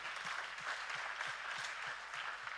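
Church congregation clapping to God at the close of a Thanksgiving service, a steady wash of applause from the crowd, heard from a little distance with a faint rhythmic thump underneath.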